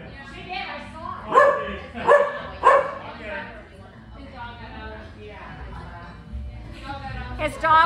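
Three quick, evenly spaced barks ring out from an Irish setter shut in a car by a cafe, followed by steady conversation from people close by.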